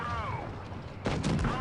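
A tank gun round from a Tier 6 American Jackson tank destroyer glances off enemy armour in World of Tanks Blitz, a heavy metallic boom and ringing whine, loud and close, with a voice talking over it.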